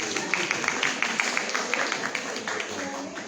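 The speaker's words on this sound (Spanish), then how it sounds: "Un fuerte aplauso," A group audience at a church spiritual-formation gathering bursts into sustained applause, a dense wash of hands clapping with some steady rhythmic accents, fairly loud and close, with no clear talking over it.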